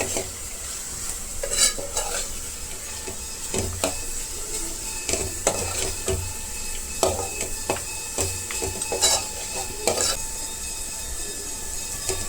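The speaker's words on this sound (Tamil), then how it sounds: "இப்போ இதில் மிளகாத்தூள் சேர்க்கணும் மஞ்சள் தூள் மல்லித்தூள் இது எல்லாமே சேர்த்து நல்லா பச்சை வாசனை போகிற அளவுக்கு வதக்கிக்கணும்" Mutton sautés in a pan with chili, turmeric and coriander powders for a bottle gourd leaf mutton gravy, giving a steady close sizzle broken by repeated scraping spoon stirs and light clinks against the pot, with no talk.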